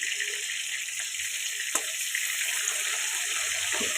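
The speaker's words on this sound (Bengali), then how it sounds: "মাছগুলো কড়াতে আমি আস্তে আস্তে করে ছেড়ে দিলাম গরম তেলে" Hilsa fish pieces frying in hot oil in a wok, giving a steady, even hiss of sizzling with a few faint pops, close and continuous throughout.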